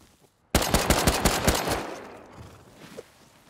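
A sudden burst of rapid automatic gunfire in a video game, about a dozen loud, close shots in quick succession, then fading into echoing tail and quieter distant shots.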